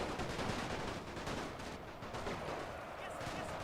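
Gunfire in a World War I Gallipoli battle video game, a dense continuous crackle of rifle and machine-gun shots at moderate distance, with no clear speech over it.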